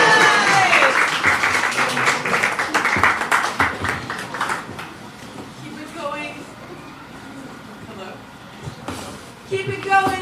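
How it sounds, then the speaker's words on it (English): An audience at a Janmashtami celebration applauds, loud clapping at first that thins out after a few seconds, with voices and crowd chatter mixed in and continuing as the clapping fades. "Keep it going. Another big round of applause."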